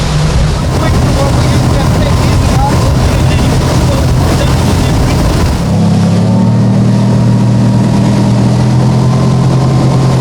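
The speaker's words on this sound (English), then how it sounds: "The noise, you can tell it's a V8, but it's not over the top" A Mercury 4.6L V8 outboard engine on a motorboat runs at speed with a loud steady drone, wind buffeting the microphone, then the engine note drops and steadies partway through.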